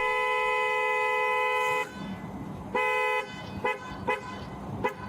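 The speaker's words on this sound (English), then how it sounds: "I was following behind you honking the horn because you were doing something wrong" A car horn blares in one long sustained honk, then several short sharp toots follow in an irregular rhythm over low street noise.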